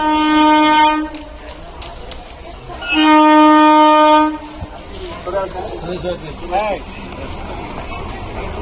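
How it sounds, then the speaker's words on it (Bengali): A train arrives at a station, sounding two long, loud, droning horn blasts about two seconds apart, with people talking nearby between and after the blasts. "ট্রেন চলে এসছে দেখতে পাচ্ছ"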